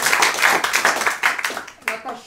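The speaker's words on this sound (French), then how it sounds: "vous pouvez l'applaudir, s'il vous plaît" An audience at an improv theatre festival show claps for a performer, a short burst of quick, close applause that fades as a voice begins talking near the end.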